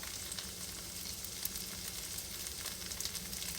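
Hash browns sizzling on high heat in a hot pan for a cheesesteak melt, a continuous even hiss and crackle, fairly quiet and without talk.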